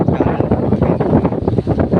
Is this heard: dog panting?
no